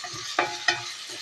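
Green chilies frying in a pan with drumstick flowers, a soft continuous sizzle broken by two quick spoon scrapes close by.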